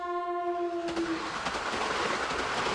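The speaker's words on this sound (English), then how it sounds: "Across the way, a train rumbles by." A yellow-striped train in Akihabara in Steins;Gate sounds its horn briefly and then rumbles past with a continuous loud roar and clatter.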